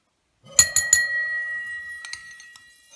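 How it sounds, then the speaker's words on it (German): Christmas dishware clinks together: three quick bright chinks of glassy tableware that ring on with a sustained tone, followed by a couple of softer taps, close and clear with no talk. "unser Weihnachtsgeschirr, das klirrt ja mindestens so schön wie ein Eiszapfen"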